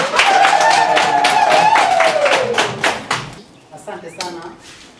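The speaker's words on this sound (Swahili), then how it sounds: "Makofi." An audience at a ceremony for a Saint Teresa of Calcutta centre applauds in a dense burst of clapping that fades after about three seconds, with speech-like voices rising over it.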